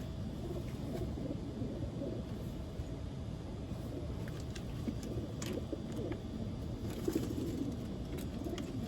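Racing pigeons coo inside their loft, a dense low murmur of many birds cooing continuously throughout, close and steady, with faint rustling and occasional higher chirps above.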